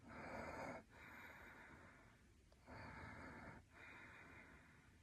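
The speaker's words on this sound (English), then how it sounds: "diaphragmatic breathing." Slow diaphragmatic breathing shown as an instruction, heard as a long steady breath that pauses briefly and then resumes, close and soft with no talking.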